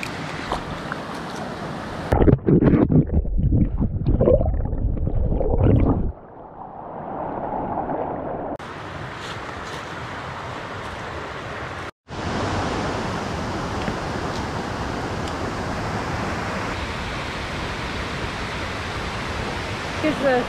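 The Nantahala river rushes continuously while someone wades across it barefoot, with a few loud splashy knocks early on and occasional voices beneath the steady flow.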